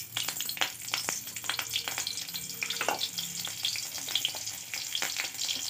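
Cumin seeds and two green chilies sizzle steadily in hot oil, a close, continuous crackle with sharp pops and stirring scrapes throughout.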